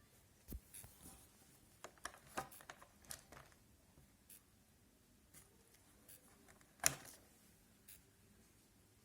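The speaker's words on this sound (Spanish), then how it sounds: "hace un clic, clic, clic, clic y no funciona, indicativo de que hay un cortocircuito" A portable universal charger with a damaged cable and a short circuit gives sharp, faint clicks at irregular intervals after being plugged in. One louder click stands out among the quieter ticks.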